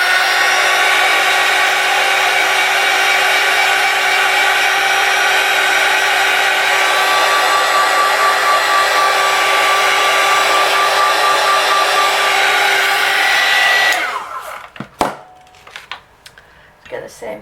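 A loud hair dryer roars steadily while drying mixed media paint, cutting off near the end, after which a few sharp knocks and clatters follow in the quieter room.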